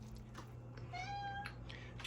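A house cat gives a single rising meow, faint and somewhat distant, over a steady low kitchen hum with no talking.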